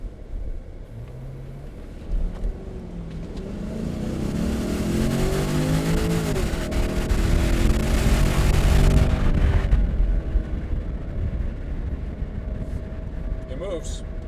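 A 2025 Range Rover accelerates hard in a 0 to 60 test on English countryside roads, its engine note climbing steadily and loudly through rising revs for several seconds before easing off, heard from inside the cabin.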